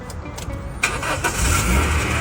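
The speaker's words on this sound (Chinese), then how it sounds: "你看好了，我现在打火" A car engine is cranked and fires up after a short pause, the starter whir giving way to a steady running engine that stays loud and close; the car has an odd fault where it stalls once the throttle is released.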